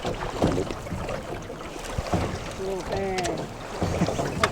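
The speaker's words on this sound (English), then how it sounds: "we're gonna be rowing" Oars dip and splash as a rowboat moves through the Tràng An caves, soft water strokes and creaks heard close with wind and background rustle, and people talk quietly at times.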